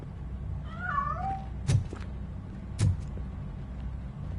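A hidden cat gives a single drawn-out meow early on, fairly faint against a low background rumble, followed by two sharp thunks.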